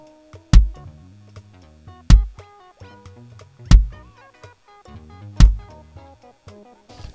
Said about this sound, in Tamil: ஸோ ஒரு எக்ஸாம்பிள் ஒரு பேஸ் ட்ரம் இந்த மாதிரி சவுண்ட் வரும்.